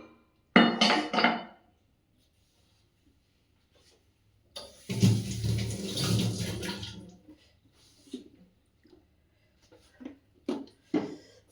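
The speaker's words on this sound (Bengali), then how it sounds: "রাত্রিবেলা একদম ধুয়ে মুছে সব পরিষ্কার করে রেখে দেবো।" Kitchen utensils being washed up under running water, with a short splash and clink, then a longer stretch of flowing water and a few scattered knocks of dishes, close by with no talk.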